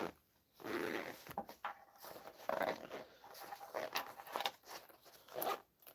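A zipper being pulled closed on a Game Boy Advance carrying case: several short raspy bursts of zipping with pauses between them, close by, quiet, with no voices.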